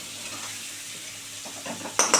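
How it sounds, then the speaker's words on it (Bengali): Elephant foot yam and potatoes fry in a pan, a soft steady sizzle followed by a few spatula scrapes and a sharp clatter of utensil against the pan at the end. "ওল আর আলু ভালো করে লাল করে ভাজা হয়ে গেল"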